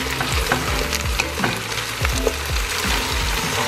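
Potatoes sizzle in a hot pot while being stirred, giving a continuous close frying hiss broken by repeated scraping strokes of the spoon, with no voices.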